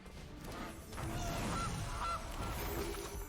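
Goose card honk effect from Magic: The Gathering gameplay: two short, bright honks in quick succession, heard alone over a soft background hum.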